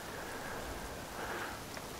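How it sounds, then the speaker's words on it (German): Steady rain falling in the survival video game The Forest, a continuous broadband hiss of drops on surfaces with no talk, even and moderately loud for the whole stretch. "weil es ja reinregnet, haben wir hier natürlich keine Feuermöglichkeiten im Regen"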